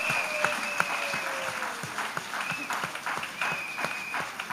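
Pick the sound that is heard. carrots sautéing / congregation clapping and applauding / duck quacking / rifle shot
congregation clapping and applauding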